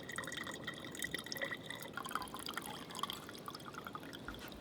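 Dirty, contaminated water trickles and drips steadily through a bandana stretched over a container, a close, continuous splashing with no talk.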